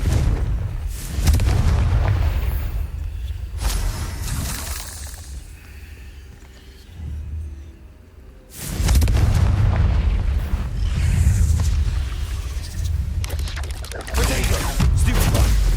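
Confringo blasting spells go off in the Hogwarts Legacy video game, loud booming explosions in bursts with rumbling low-end and crackling debris, fading briefly midway before erupting again.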